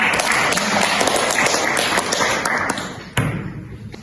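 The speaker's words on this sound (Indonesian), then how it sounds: "Tepuk tangan dong." A university group-guidance session breaks into applause, a dense burst of clapping from a small crowd that tapers off, with a sharp thump near the end.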